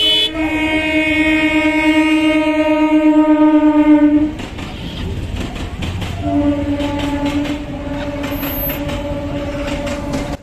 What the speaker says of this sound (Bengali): আর ট্রেন আসছে দেখো